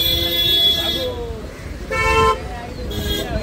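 Car horns toot in short blasts over a rumbling bed of city traffic at the Marine Drive signal, with people talking nearby.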